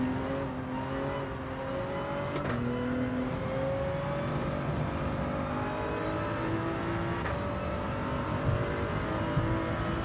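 Simulated car engine revving high at about 7,500 rpm during a racing video game time trial, a steady sustained drone with harmonic whine lines that shift pitch as it holds near the limit, continuous and fairly loud throughout.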